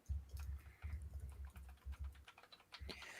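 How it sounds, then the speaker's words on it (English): Rapid, uneven clatter of keys being typed on a computer keyboard, close and fairly quiet, with short bursts and brief pauses and no talking over it. "We're both looking it up typing here."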